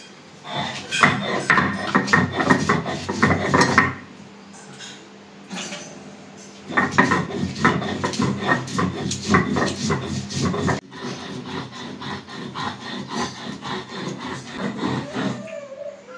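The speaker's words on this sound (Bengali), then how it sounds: "এগুলো শিলপাটা একসাথে বেটে নিব" Chili, mustard seed, onion, garlic and ginger being ground together on a flat shil-pata stone, giving close, loud, rhythmic scraping and rubbing strokes in long bursts separated by brief pauses.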